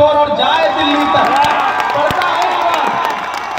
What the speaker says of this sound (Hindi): उठे आपकी तालियों का शोर और जाए दिल्ली तक